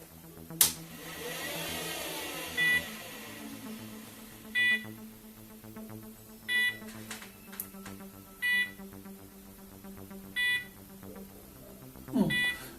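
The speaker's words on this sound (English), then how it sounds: "this alarm, it's because the threshold in the software" A homemade Arduino-based 12V battery capacity tester sounds its alarm: short, sharp electronic beeps repeating about every two seconds over a low electrical hum, with no one speaking.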